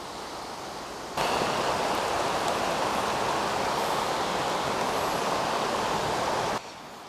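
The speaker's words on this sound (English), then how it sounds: "Waterfalls are flowing again." Spruce Brook Falls in Connecticut pours in a dense, steady white roar that cuts in abruptly and holds loud and even for several seconds before dropping back to a quieter background hiss.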